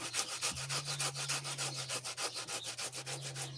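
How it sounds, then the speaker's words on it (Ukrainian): An onion being grated for shashlik marinade, a close, rapid rhythmic rasping of strokes back and forth, steady and repetitive with no talk. "беремо цибулинку і натираємо її"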